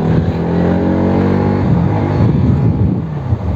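A Bajaj Pulsar NS 200 motorcycle accelerates hard in a pickup test, its engine note climbing loud and close through the revs before breaking into rougher rumble and wind buffeting.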